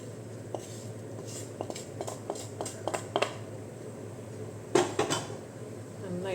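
A spoon scrapes and clinks against a pan as rice flour is stirred into boiling water over a full flame, giving a sparse run of light metallic taps followed by a louder cluster near the end.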